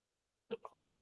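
A single quick hiccup, a short double-pulsed catch of the throat, comes close and clear in an otherwise quiet room during an online class.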